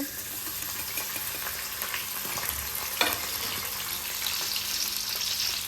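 Potatoes and onions fry in hot oil for a curry, making a steady, even sizzle with a light clink of stirring near the middle; close and moderately quiet, with no talking.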